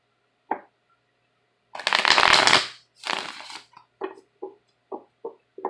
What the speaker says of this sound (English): Do one more shuffle here.